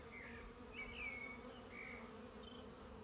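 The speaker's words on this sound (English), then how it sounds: "The bees are swarming." Swarming bees on a Somerset flower farm make a steady, faint buzzing hum throughout, with individual insects passing close now and then.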